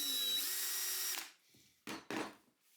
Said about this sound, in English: I'm pre-drilling both sides so the parts can go easier on it.